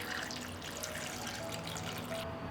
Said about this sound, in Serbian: Sipat ću i vodu do visine poklopca